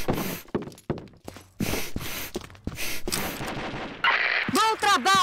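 Rapid gunfire bursts from the Combat Arms shooter game, loud and close, with sharp shots separated by brief gaps and several overlapping volleys, followed by a ringing, whistling effect near the end.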